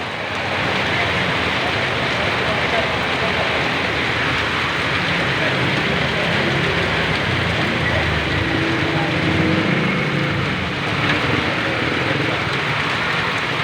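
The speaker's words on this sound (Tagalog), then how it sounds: "Umuulan na." Rain falls in a steady, broad wash of hiss that runs unbroken throughout, with a faint low rumble beneath.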